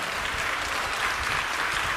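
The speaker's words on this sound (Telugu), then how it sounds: "గట్టిగా చప్పట్లు కొట్టి ఆనంది," Loud, dense applause from a church congregation, a steady wash of many hands clapping continuously at close range with no break.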